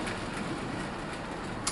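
A Bachmann Fowler 4F model locomotive runs with a goods train behind it on a loaded test run, giving a steady, even rolling whir and rail rumble throughout, with a brief click near the end.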